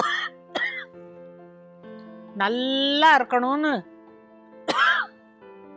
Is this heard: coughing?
yes